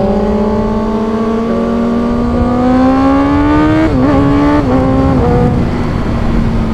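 A Honda CBR650R motorcycle engine revs loud and close, its steady drone climbing in pitch before a couple of quick throttle blips and gear changes, with no talking.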